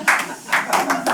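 At a stand-up comedy show, a small audience claps in a few brief, separate bursts of hand claps, sparse and close rather than a full ovation.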